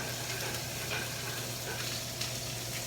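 Steady, dense sizzle of scallops frying in a thin layer of moving oil in a pan, continuous and close with no talking.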